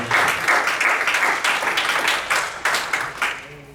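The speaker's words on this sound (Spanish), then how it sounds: "Un aplauso al Señor, que usted tenga agradecimiento al Señor." A church congregation claps in praise, loud and close, with the clapping swelling in waves and sharp bursts, then thinning toward the end.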